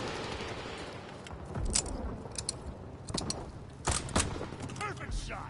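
Gunfire in the Call of Duty WW2 multiplayer game, bursts of shots and sharp cracks scattered across a busy battle soundscape, some close and loud, with clicking mechanical sounds between volleys.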